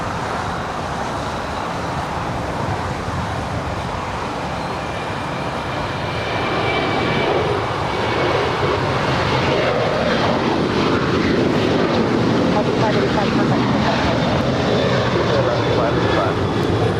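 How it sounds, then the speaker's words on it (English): Alaska Airlines jet taking off from LAX bound for Seattle, a broad roar of jet engines that swells from about six seconds on and holds steady and loud, mixed with distant airport traffic, with no talking. "That is Alaska Flight 585 off to Seattle."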